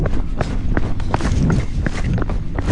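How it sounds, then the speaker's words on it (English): Hurried running footsteps on a trail thud in quick, irregular succession, loud and close, with a rough, continuous rumble underneath and no voices. "I heard footsteps coming after me"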